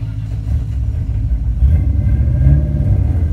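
A car engine at low revs crawls slowly in first gear, giving a loud, close, steady low rumble that swells slightly about halfway through, with no talking.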